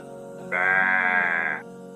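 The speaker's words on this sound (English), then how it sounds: "كبش" A ram lets out a single loud, drawn-out bleat of about one second, with a nasal, wavering tone against a quiet background.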